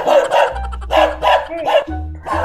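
Neighbours' dogs barking close and loud, a rapid run of sharp repeated barks in several bursts with brief gaps between them.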